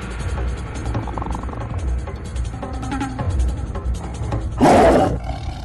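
A tiger in a Jean-Claude Van Damme action film lets out one loud, rasping roar near the end. Before it come quieter film sound effects and ambience, with no speech over the roar.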